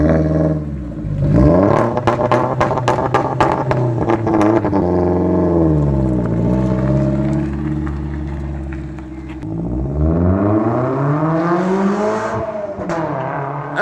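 A car with a straight-pipe exhaust and no sport catalytic converter roars loudly as it drives away, its engine revving up and down through several gear changes, easing briefly, then surging again near the end.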